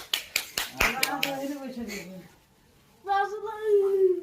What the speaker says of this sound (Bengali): হ্যাঁ হাততালি, হাততালি